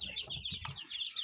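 A brood of young chicks, including Kuchinsky-breed birds, peeps constantly with rapid high-pitched chirps that overlap, close by and fairly soft.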